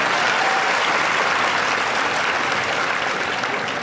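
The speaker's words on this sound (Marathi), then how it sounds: "एकदा उमरीकरांसाठी जोरदार टाळ्या होता." An audience in Umri claps hard at a talk, a dense, loud, continuous burst of applause filling the whole moment with no words over it.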